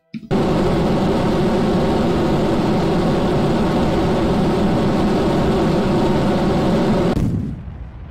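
Rocket engines in Kerbal Space Program roar with a loud, dense, continuous rumble for about seven seconds, then cut off abruptly, leaving a fading hiss; no one speaks.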